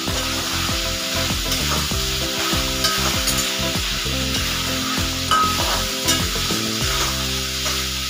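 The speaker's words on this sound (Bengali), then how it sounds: "এরপর গ্যাসের ফ্লেমটা বাড়িয়ে ভালো করে কষিয়ে নিতে হবে।" Potato and cauliflower with spices sizzle steadily in a pan over a high flame, with repeated stirring scrapes and clatters running throughout, loud and close with no voices.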